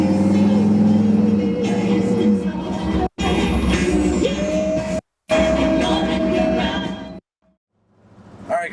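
A 1972 Chevrolet C30 dually truck with stacks driving on the road, its engine droning and shifting pitch under steady road noise, cut by brief gaps before fading out.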